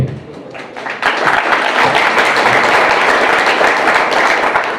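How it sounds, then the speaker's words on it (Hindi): Audience at a Bhagavad Gita class breaks into dense, loud clapping that starts softly and swells after a second into a steady sustained wash of applause. "एक्चुअली ताली बजानी नहीं चाहिए,"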